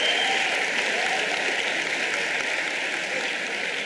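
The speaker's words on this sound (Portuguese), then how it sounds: "Palmas." Church congregation breaking into applause, a dense, even wash of many hands clapping that stays loud and steady from start to finish with no talking.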